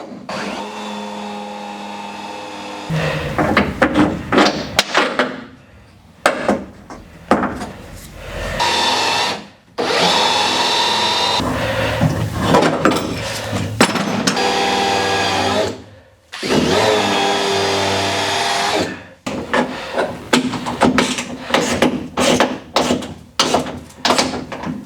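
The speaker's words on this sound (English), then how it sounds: "we're going to be using one of these countersink drill bits to drill our holes into" A power drill with a countersink bit whirs in repeated bursts of several seconds each, drilling holes for door hinges, separated by brief pauses, loud and close.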